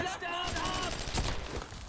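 Suppressing gunfire in the World War II shooter Brothers in Arms, a rapid burst of rifle and machine-gun shots crackling close and loud over a couple of seconds, mixed with shouted voices.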